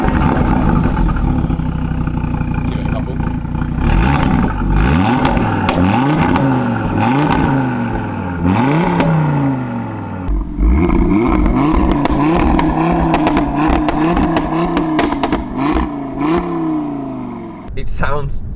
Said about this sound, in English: The sound of this car and that 5-cylinder